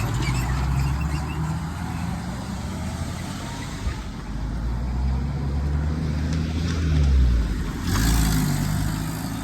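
Small Japanese kei-style truck driving by on a countryside road near Soja, Okayama, its engine a steady close rumble that swells as it passes, with no talking.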